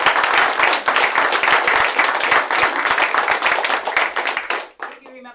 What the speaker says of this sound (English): give the guys a round of applause